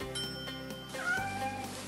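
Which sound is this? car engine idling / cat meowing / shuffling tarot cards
cat meowing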